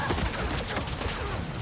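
Rapid gunfire crackles through a burst in Marvel's Spider-Man 2, dense overlapping shots at moderate distance lasting under two seconds.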